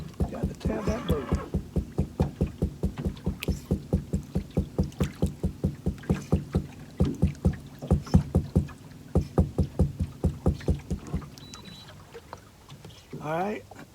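A hand taps rhythmically on a fishing boat's hull to attract perch, a long run of close, even knocks that pauses briefly and resumes, with faint voices around and a short squeaky sound near the end.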